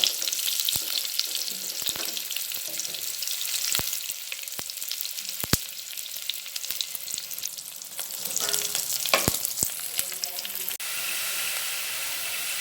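Onions fry with bay leaf, cinnamon and cardamom in ghee for Kerala-style ghee rice, a continuous sizzle broken by sharp scraping clicks of a spoon stirring the pan.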